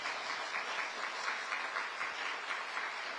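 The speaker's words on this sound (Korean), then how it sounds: "보통 이럴 때는 박수를 치시더라고요." An audience at the Global AI Hub vision proclamation ceremony breaks into applause: a steady wash of many hands clapping together in a hall, even and sustained for a few seconds, heard alone.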